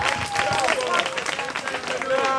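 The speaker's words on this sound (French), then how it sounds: "On applaudit encore pour lui." A school audience claps for a philosophy teacher at a lycée, brief scattered applause under a crowd and voices speaking over it.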